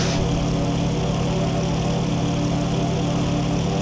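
A piston aircraft engine runs at full power during takeoff in the IL-2 1946 flight game, a loud, steady propeller drone with a low throbbing hum that holds constant with no talk over it.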